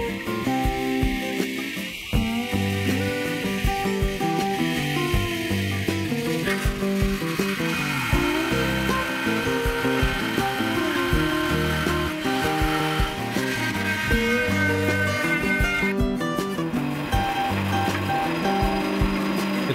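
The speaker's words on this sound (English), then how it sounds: "Cutting this is very easily done with a bandsaw. I'm using a 1/2 inch blade." A bandsaw fitted with a 1/2 inch blade cuts a curved wooden pergola brace, with a steady, close rasping and whirring that shifts in tone as the cut progresses, with no talk over it.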